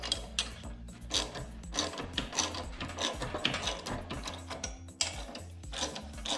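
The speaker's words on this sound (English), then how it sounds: "I'll tighten down that flywheel while I'm over here" A Predator 224 small engine's flywheel is tightened with a ratchet, giving close, quiet, rapid clicking strokes in repeated bursts with brief pauses between them, and no voices.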